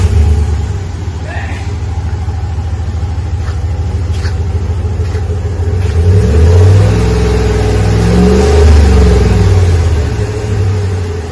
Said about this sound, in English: Just revving the engine a little bit